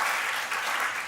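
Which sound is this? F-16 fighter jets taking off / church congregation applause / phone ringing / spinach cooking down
church congregation applause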